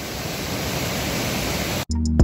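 A large mountain river rushes through forest in the Dombay area, a steady broadband roar that fills most of the clip before it cuts off abruptly near the end.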